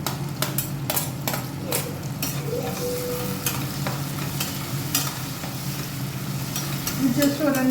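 Onions sauté in a pan for mutton biryani, a close continuous sizzle with repeated scraping stirs of a spoon against the metal and brief clatters.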